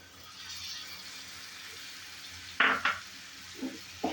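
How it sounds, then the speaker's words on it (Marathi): Masala paste sautéed in oil in a pan for paneer butter masala, with a low, steady sizzle and a few short spatula scrapes near the end, close by and with no voices. "हे वाटण आपल्याला कडेने तेल सुटेपर्यंत परतून घ्यायचंय"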